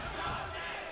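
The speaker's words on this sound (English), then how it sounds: "Oh, here comes the crowd." A crowd roars in an anime boxing match, a brief, faint burst of massed cheering and shouting that swells for about a second.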